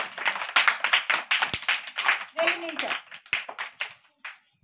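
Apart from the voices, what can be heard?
children clapping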